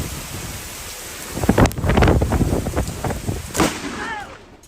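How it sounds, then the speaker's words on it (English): A series of booming, crackling blasts rolls out in quick bursts over a rushing roar, fading into rumble as a voice briefly sounds near the end. "the explosion sound completely froze me in place"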